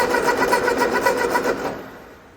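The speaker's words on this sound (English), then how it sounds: "They just had a very unique starter clashing the motor and flywheel sound" The starter of a 1948 Ford 8N tractor cranks the engine with a rapid, rhythmic mechanical whir and clatter, loud and close, then winds down and fades near the end.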